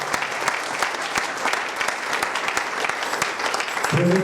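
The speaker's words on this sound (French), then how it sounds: "Acclamons pour la parole de Dieu." A church congregation claps together in dense, sustained applause, many hands at once in a full room, steady throughout before a voice begins faintly at the very end.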